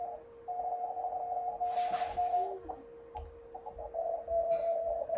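A thin, steady Morse code tone rings on the receiver of an FTDX10 or IC-7300 during a CW contest. It keys on and off over a constant hum, with faint hiss bursts and clicks.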